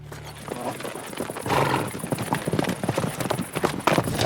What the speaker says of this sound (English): We're on a horse-drawn wagon tour with teamster Ross Fritz.